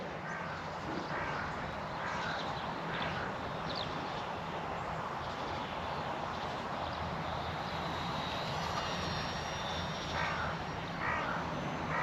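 A VolantexRC Trainstar Stunt radio-controlled trainer plane flies overhead with a steady electric motor whine under strong wind noise, and a bird caws briefly in the background.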